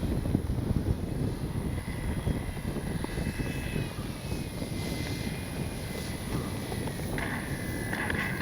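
An E-flite Commander RC plane throttles up and lifts off, its electric motor and propeller giving a steady, close buzz that climbs in pitch as it accelerates away, with a faint whine rising above it toward the end.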